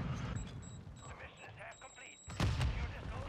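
An airstrike explosion in the video game Modern Warfare 2 lands as one sudden heavy boom midway and rumbles on under continuous voices talking.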